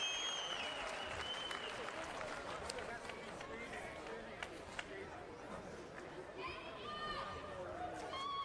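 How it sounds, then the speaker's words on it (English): Boxing crowd at a Las Cruces fight night cheering and applauding after a bout, a steady dense roar of clapping with whistles and shouts, somewhat distant and sustained throughout. "the crowd here sounds like they very much think Amy pulled it off"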